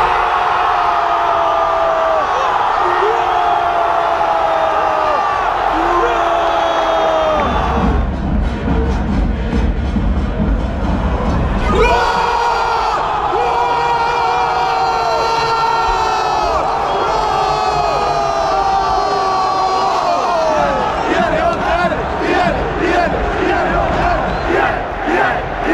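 A packed football stadium crowd at a Boca Juniors versus Racing match roars and chants in waves, loud and sustained, with a dense mass of voices swelling and surging throughout.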